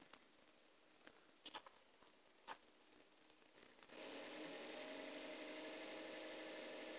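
A 3D-printed sensorless brushless DC motor is cranked up, with a few faint clicks and taps before it starts, then a sudden steady whirring hum and a high whine that hold at constant loudness.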